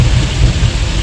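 Heavy monsoon rain pours down during a long road drive from Goa to Mumbai, a dense, steady roar that fills the whole short stretch, loud and close, with deep rumbling underneath and no voices.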